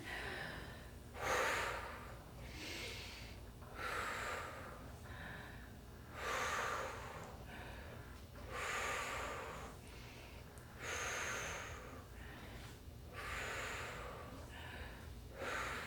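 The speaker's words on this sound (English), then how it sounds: "And we're still breathing along." Deep, rhythmic breathing during a stretching and light exercise session, with slow inhales and exhales alternating at even intervals, close and fairly loud, with no talk over it.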